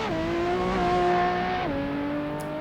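A Ferrari 599 Evo competition car in the Assetto Corsa racing game holds a loud, sustained engine note that shifts gear and drops pitch midway, close and continuous.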